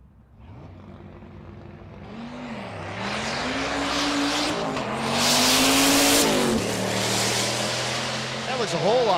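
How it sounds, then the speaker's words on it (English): Drag race cars launch down the strip at a race week event, engines revving hard and climbing through gears, tires squealing, growing louder as they pass, with someone commentating over the roar. "That's Drew Schneidel in the left lane. Drew in the 13-0 class. David in the stick shift."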